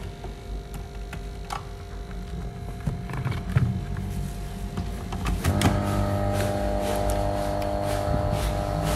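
Jebo P50 aquarium aerator blower running with a steady hum and faint ticking, quiet and close, with handling clicks and a rise in level partway through.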